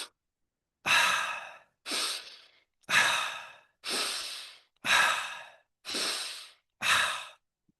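Deep breathing done as a guided breathwork exercise: seven long, airy breaths evenly spaced about a second apart, each rising quickly and then fading in a relaxed, effortless exhale, close to the microphone with silence between them.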